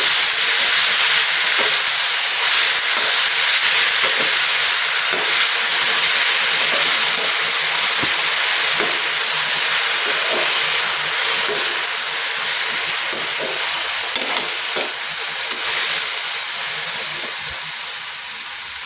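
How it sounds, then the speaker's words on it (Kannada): Basale (Malabar spinach) greens frying in a pan, giving a loud, steady, close hiss and sizzle of steam and moisture cooking off that holds almost unchanged throughout, with faint crackles and no talk. "ಈಗ ಇದು ಚೆನ್ನಾಗಿ ಬೇಯಬೇಕು ಅಲ್ಲಿವರೆಗೂ ನಾವು ಇದನ್ನು ಫ್ರೈ ಮಾಡ್ಕೋಬೇಕು"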